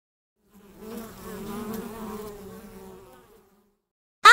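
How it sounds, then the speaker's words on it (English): A bee buzzes in a steady, wavering drone for about three seconds, fading in and out close by, with a short sharp tone at the very end. "I am a bee."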